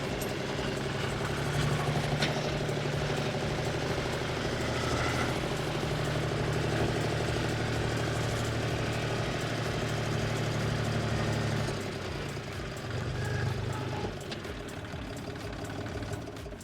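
A Chinese tractor engine runs steadily throughout while driving without the front axle engaged, a loud low rumble with a continuous mechanical drone that dips slightly near the end.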